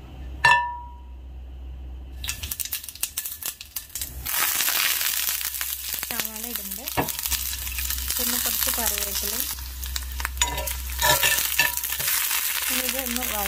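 Chana dal and ash gourd hitting hot coconut oil in a pan, a bright clink followed by steady loud sizzling and frying with scraping stirs, continuing throughout with no talk.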